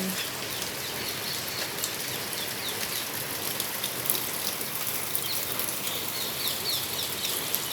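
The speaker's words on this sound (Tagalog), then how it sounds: "umuulan." Steady rain patters and hisses on garden plants and surfaces, a dense, even wash of drops with faint birds in the background.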